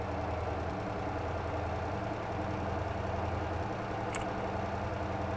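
A truck engine in the driving game MotorTown, held in comfort mode to keep revs low and avoid overheating, drones steadily at low pitch throughout, with no talk over it.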